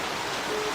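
Steady rain falls in a soft, continuous hiss with no distinct drops or other sounds standing out, at moderate to faint level throughout.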